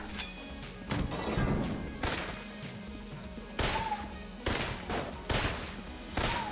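M1 rifle gunfire in the video game Enter the Gungeon, with several sharp shot bursts at irregular intervals over a busy background of game noise.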